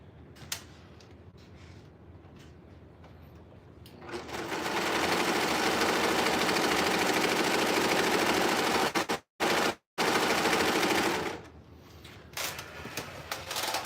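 A serger sewing machine runs in one long, fast, buzzing burst of about seven seconds with two brief stops, close and loud, with quieter handling sounds before and after.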